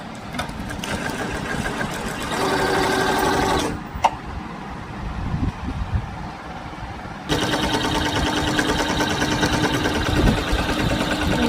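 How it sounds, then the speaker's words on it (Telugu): A sewing machine stitches a chandbali design on a blouse, running in loud mechanical bursts that stop abruptly, hum quietly for a few seconds, then start again at full speed. "ఎందుకంటే మిషన్ ఊరికి ఆగిపోతుంది భలే ఇబ్బంది పెట్టేస్తుంది"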